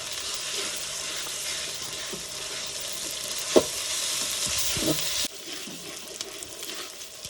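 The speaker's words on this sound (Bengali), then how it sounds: "এটাকে একটু ভালোভাবে কষিয়ে নিয়ে তারপরে অন্যান্য মশলাগুলি দিয়ে দিব" Onion, ginger and garlic fry in a pan with a steady close sizzle, occasional stirring scrapes and clicks punctuating it before the frying noise drops off near the end.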